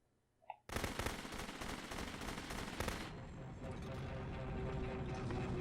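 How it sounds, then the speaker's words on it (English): A gun fired in The Beginner's Guide opens into sustained, rapid automatic fire after a brief quiet moment. It stays dense and loud for a couple of seconds, then gives way to a steady roar. "Remember, you can click to fire the gun."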